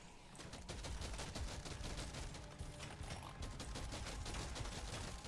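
Rapid rifle fire in the video game Deep Rock Galactic: Survivor, a dense continuous stream of quick shots with a mechanical clatter, steady and unbroken.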